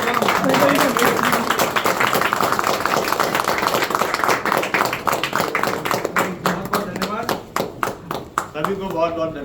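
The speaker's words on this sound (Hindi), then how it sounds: "तालियों की गड़गड़ाहट कम नहीं होनी चाहिए" Applause at a loyalty card launch event: a crowd claps steadily, the clapping growing sparser and more distinct toward the end, with a voice speaking over it.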